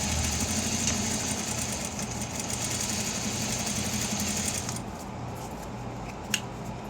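A sewing machine stitches around the edges of a cardboard eyeglasses case, a steady close whirring with rapid needle chatter that cuts off partway, leaving a quieter motor hum and a single sharp click.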